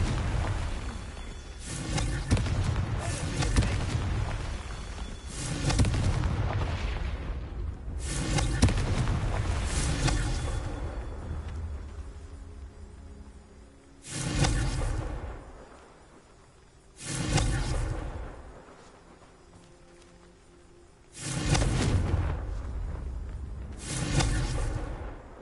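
Confringo fire-blast spells cast in Hogwarts Legacy, booming bursts with whooshing tails that come in a dense run early on, then as separate blasts spaced a few seconds apart over a quieter game backdrop.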